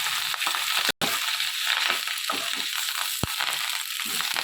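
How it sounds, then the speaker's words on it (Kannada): Curry leaves fry in a pan with a steady, close crackling sizzle, broken by a brief dropout and one sharp tick. "ಇದನ್ನ ಚೆನ್ನಾಗಿ ಫ್ರೈ ಮಾಡ್ಕೋಬೇಕು."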